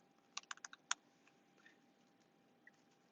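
Brief burst of keyboard typing, a handful of quick sharp key clicks clustered early, then a pause and a couple of isolated taps, faint and close in a quiet room with no voices.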